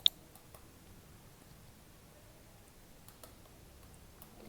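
A handful of faint, sharp computer mouse clicks tick by in a quiet room during GIS software work on satellite imagery, spaced irregularly over a low hum.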